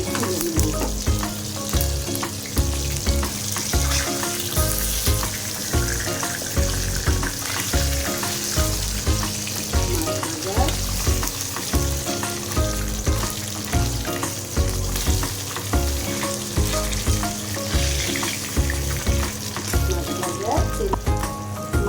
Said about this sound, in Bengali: ভাজার জন্য কড়াইয়ে তেল দিয়ে মাছগুলো দিয়ে দিয়েছি